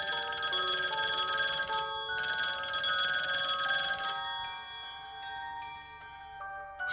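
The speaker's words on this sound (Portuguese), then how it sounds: "Finney ouviu o toque baixo de um telefone." A kitchen telephone rings in a bright, repeating electric bell pattern that sounds close at first, then fades and thins out toward the end.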